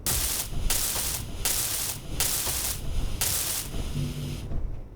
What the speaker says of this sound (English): Let's weld these two up before I do anything else.